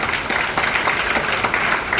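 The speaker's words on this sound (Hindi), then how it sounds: "जोरदार ताली सर के लिए" A crowd at a talk by a young leader bursts into loud, sustained applause, dense clapping continuing steadily for the full two seconds with no speech over it.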